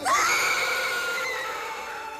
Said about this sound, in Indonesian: dari bangunan itu terdengar teriakan yang menyayat hati.